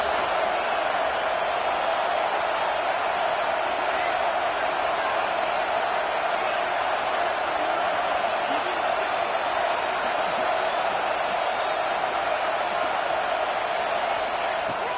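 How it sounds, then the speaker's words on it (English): A stadium crowd roaring in a college football video game during a game at Notre Dame, a steady loud continuous wash of crowd noise throughout, with voices underneath. "The roar of the crowd trying to fuel this defense to keep them pinned in their own end"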